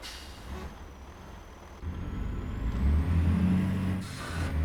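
A heavy DAF 95XF truck carrying 23 tons of roof tiles idles and rumbles, then a loud hiss of an air brake releases over the engine noise.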